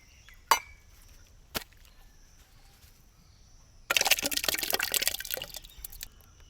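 Liquid poured into a metal pot, a loud rushing pour starting partway through after a few sharp knocks and clinks, close and clear with no talking.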